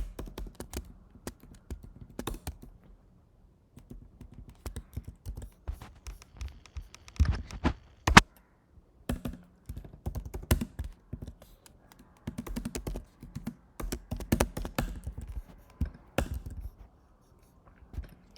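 Computer keyboard typing code in a React tutorial, irregular bursts of clicky key taps and pauses, close and moderately quiet, continuing for about eighteen seconds without talk.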